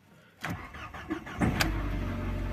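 An Audi A4 B7 with an automatic gearbox starts up: a short cranking burst and then the engine catches and settles into a steady low idle, heard close with no talk.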